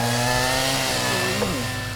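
A chainsaw cuts a notch in a log for a log cabin, its engine droning loud and steady up close, with a brief dip in pitch as it bites into the wood, no speech.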